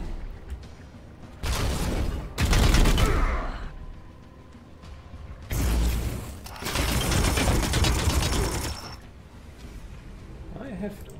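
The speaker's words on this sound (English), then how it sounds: "this should trigger" Support-fire gunfire rattles in the Warhammer 40k: Chaos Gate – Daemonhunters video game, coming as two long, loud bursts of rapid shots separated by a quieter stretch.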